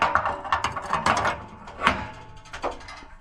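Tightening a fitting during a water tank installation brings close, irregular mechanical clicks and ratcheting creaks, with a few sharper snaps in between.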